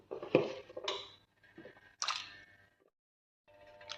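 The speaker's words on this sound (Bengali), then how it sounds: "আজকে আমি ইউজ করব পেঁপে আলু এবং সিম এখন আমি দিয়ে দিব সবজিগুলো" Chopped papaya, potato and flat beans tipped into a pot of thin vegetable khichuri, giving a few soft wet squishes and light clinks of pot and utensil, with quiet gaps between them.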